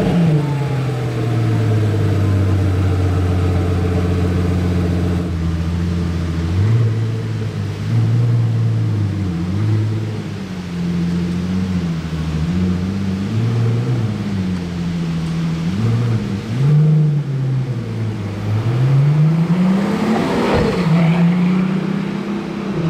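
A Pagani Utopia supercar with a titanium exhaust pulls away through Monaco streets, its engine revving up and down in repeated swells with gear changes, loud and close at first, then climbing to a final strong rev.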